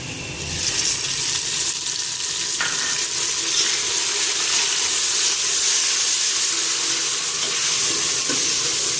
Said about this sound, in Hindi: जिंजर गार्लिक पेस्ट इसमें ऐड कर देने के बाद इसको अच्छी तरह से भून लीजिए।